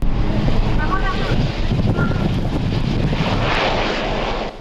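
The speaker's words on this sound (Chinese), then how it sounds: "螺旋桨一个加速，飞机瞬间又从海面起飞。" An amphibious aircraft's propeller speeds up as it takes off from the sea surface, a loud, steady broadband engine roar with wind buffeting, heard close and continuous, with a voice talking over it.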